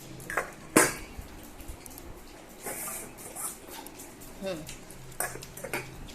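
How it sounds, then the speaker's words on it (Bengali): Cooked rice is mashed by hand with water on a plate, giving soft wet squelches and occasional sharp clinks against the dish, scattered and close, with brief sounds of an animal or voice in between. "ভালো করে মেখে নিই জল দিয়ে পাতলা করে"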